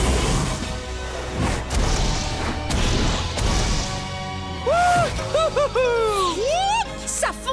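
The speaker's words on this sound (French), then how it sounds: "Maintenant, demandons à Zik de détruire tous les boulets avec son feu" Cartoon cannonballs are blasted apart by fire in a children's animated show, with several loud crashing impacts and whooshes in quick succession, followed by bright rising and falling musical tones.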